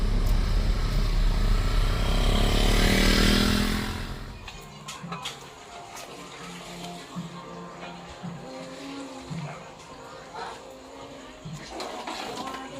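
Lead and support vehicles of a convoy drive past during a lockdown, a loud engine and road roar swelling for a few seconds and then fading to a quieter idle with voices talking nearby.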